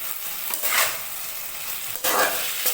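Vegetables fry in a pan with sukto spice mix added, a broad close sizzle punctuated by a few scraping strokes of a spatula, loud and steady throughout.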